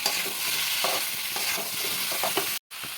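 Boiled jackfruit and potato with turmeric and salt are stirred in a hot pan, a close steady sizzle broken by spatula scrapes, then a sudden brief silence before the frying resumes.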